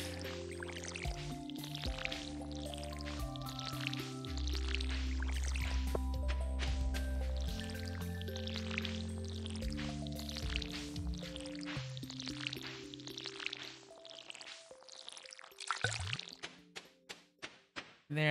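Soft splashy watering-can pours from Stardew Valley repeat over a bed of steady background music, then give way to a run of short, sharp tapping sounds toward the end.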